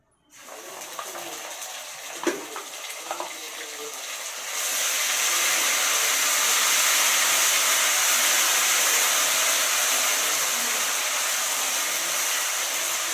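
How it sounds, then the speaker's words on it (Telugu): Ginger garlic paste frying in a pan while cooking jeera rice: a few light clicks at first, then a loud, steady hissing sizzle that continues evenly to the end. "ఇలా పచ్చివాసన పోయేంత వరకు వేయించుకోవాలండి."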